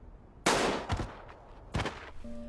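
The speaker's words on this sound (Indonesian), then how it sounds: "Duar, ada suara tembakan." Gunshot sound effect from the Squid Game series, two sharp loud cracks about a second apart with a fainter hit between them, followed by a brief tone.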